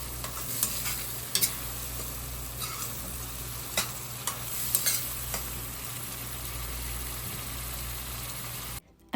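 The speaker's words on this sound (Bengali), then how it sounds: "এরপর আমি এখানে পেঁয়াজ ভাজার জন্য বসিয়ে দিয়েছি।" Onions and a paste of ginger, garlic, dried chilli and cumin sizzle steadily in a pan, with scattered scraping clicks of a spoon stirring, close and continuous without talk.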